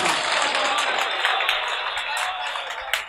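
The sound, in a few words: audience applause at a mushaira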